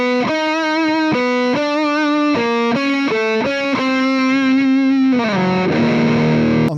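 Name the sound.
distorted electric guitar through Mesa Mark V 25 amp, metal tone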